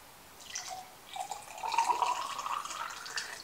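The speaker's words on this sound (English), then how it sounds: "You can dump your water from here" Water poured into a terra cotta plant watering spike buried in a pot's soil, a soft trickling and gurgling pour that starts faintly, then swells into a steady, close, quiet stream, with no talking.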